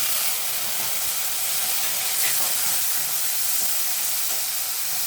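Onions frying in a pan give off a steady, fairly loud sizzle and hiss as chopped tomato goes in, with no voices over the crackle.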